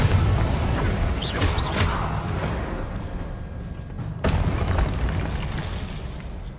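Fiery Confringo blasts from the Hogwarts Legacy video game, sounding as repeated booming explosions with a deep rumble that stays loud and sustained, with sharp bursts near the start and another strong hit partway through.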